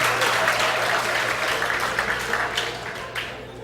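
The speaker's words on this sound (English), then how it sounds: "that is the applause of pity" An audience at a JavaScript conference talk applauds steadily for several seconds, a dense, fairly loud wash of clapping from a mid-sized crowd that tapers slightly toward the end.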